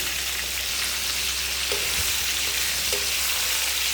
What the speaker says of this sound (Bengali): গাইস এগুলো খুব বেশি ভাজা যাবে না, একটু হালকা করে ভেজে নিতে হবে।